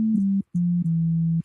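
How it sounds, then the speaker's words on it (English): A synthesizer produces a pure sine-wave sub bass tone, steady and clean, played as three sustained notes with a short gap after the first, alone and moderately loud. "Got a sine wave, and this is the beginning of all sounds."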